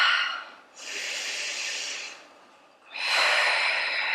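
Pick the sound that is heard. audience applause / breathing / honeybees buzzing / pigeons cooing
breathing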